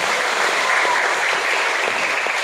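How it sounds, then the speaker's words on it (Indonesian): A congregation at an Indonesian youth revival service claps loudly and continuously, a thick wash of applause from a large crowd with no pauses. "Boleh tepuk tangan untuk Tuhan."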